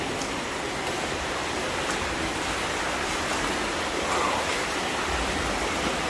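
Loud, steady roar of rushing water echoing through Al Capone's old escape tunnels in Arkansas, a continuous broadband wash with no breaks and no voices.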